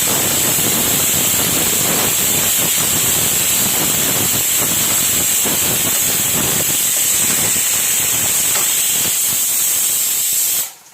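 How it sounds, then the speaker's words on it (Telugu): Garlic and chili paste with salt fries steadily in a pan, a loud, continuous close sizzle and hiss that runs unbroken for about ten seconds before cutting off abruptly at the end. "ఇవి మంచిగా వేగనివ్వండి"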